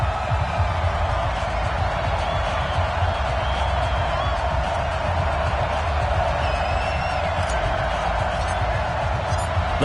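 Stadium crowd noise from an NFL video game matchup between the Kansas City Chiefs and New England Patriots, a steady loud roar of cheering fans that holds throughout without letup.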